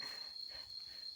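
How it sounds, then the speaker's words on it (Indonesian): Cicadas singing in a rural village, a thin, steady high-pitched drone with a faint pulsing buzz, quiet and continuous with no voices. "ini di sini ada suara-suara tonggeret yang saat ini mengumandangkan"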